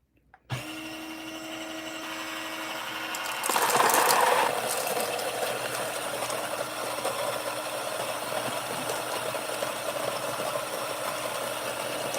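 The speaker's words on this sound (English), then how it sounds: "Great conical burr grinder." A conical burr coffee grinder grinds espresso beans at a fine setting, starting abruptly and then running as a continuous close, whirring mechanical grind that surges briefly louder before settling into a steady drone.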